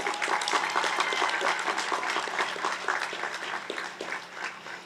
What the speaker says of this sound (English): I think that still deserves another round of applause.